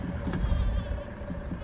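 A ewe bleats for her newborn lamb at lambing time, a single wavering, fairly close call lasting about a second over low background rumble.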